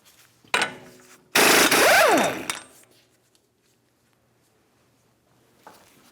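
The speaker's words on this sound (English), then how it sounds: "Now we can remove our 32mm axle nut." An impact wrench spins off a 32mm axle nut on a Ford Flex during a wheel bearing and hub job, a short burst followed by a longer loud rattling run, then quiet.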